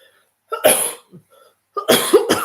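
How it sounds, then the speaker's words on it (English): Two short bursts of coughing, close by, separated by a brief pause with a small throat sound between them. "I'm going to cough, so I'm going to drink"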